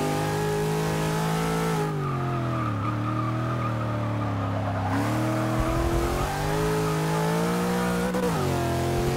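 A 1965 Ford Mustang racing in Forza 6 holds a loud, steady engine drone that sags and climbs with gear changes and throttle, with tire squeal through the corners and no voices.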